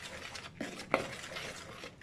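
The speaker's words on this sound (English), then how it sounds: "Gonna stir it together." Dry pancake batter ingredients, including flour and baking powder, stirred in a bowl for Greek pancakes, giving soft scraping swirls with one sharper utensil tap against the bowl, close and alone.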